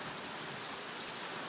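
Steady, dense rain pours down during a thunderstorm, a continuous close hiss of drops on surfaces with no pauses and no voices.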